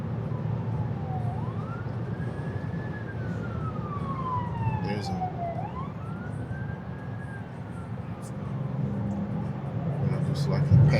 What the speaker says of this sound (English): just like he passed a fire engine.